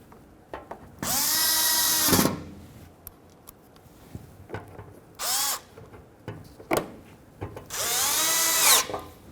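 A power drill drives screws into a Nissan Frontier's bumper valance in three separate bursts, each a whining spin lasting about one second, with clicks and handling noises between them.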